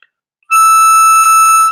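A blown hole-8 note on a diatonic harmonica rings out clear and steady for over a second, with a light tremolo and a brief tail, alone in the room.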